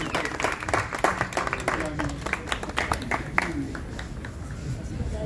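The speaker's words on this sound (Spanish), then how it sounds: "Que ese fuerte y bonito aplauso para todos ustedes" An audience claps at a mariachi birthday performance, with dense, irregular sharp claps in a lively burst over a crowd murmur, while a voice talks over the applause.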